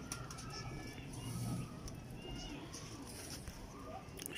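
Pigeons in a breeder's loft, a soft low cooing heard faintly against quiet background noise.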